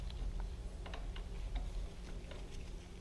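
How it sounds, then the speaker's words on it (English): A wrench loosens two 10 mm bolts on a motorcycle shifter rod of a 2007 Suzuki GSX-R1000, giving faint close metallic ticks and clicks in a steady, uneven ratcheting rhythm. "remove the shifter rod by removing these 2 bolts on either side"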